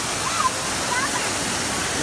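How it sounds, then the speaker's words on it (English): Steady broadband rush of a waterfall fills the whole stretch, constant and fairly close, with people's voices faintly mixed in. "The waterfall?"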